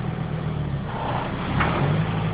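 A Volvo 850 AWD pulls away from a standstill, its engine giving a steady low hum and drone that swells slightly toward the end, heard close and without talk.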